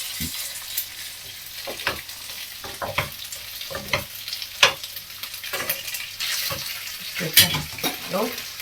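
Fresh egg pasta is stirred in a pan beside spaghetti bolognese, sending up a loud, constant sizzle with repeated scraping and clacking strokes of the spoon.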